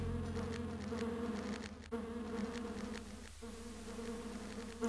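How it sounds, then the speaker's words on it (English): Bees buzz steadily in the video game Lands of Lore: The Throne of Chaos, a close, continuous droning hum with a sustained tone that holds for several seconds without speech. "Turns out there were bees behind that door."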